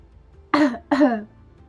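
Two quick, close coughs in succession, hoarse and throaty, with quiet between and after.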